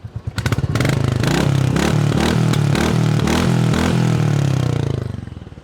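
A new Royal Enfield Classic 350 motorcycle engine is revved hard: a few quick low thumps, then a sustained, loud, throbbing exhaust note held for several seconds before it eases off.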